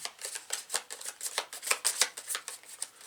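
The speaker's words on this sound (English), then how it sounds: "Alright, good shuffle going, completed." Cards for the Arkham Horror board game are riffled and shuffled in a rapid run of soft, papery bursts, close and fairly quiet, with no talking over them.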